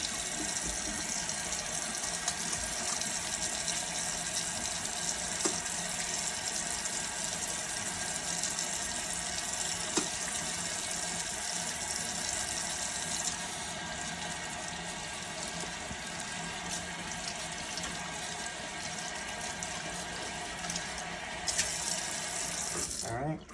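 Tap water runs steadily into a kitchen sink while hands are washed during turkey brine preparation, a continuous close hiss with no clear breaks.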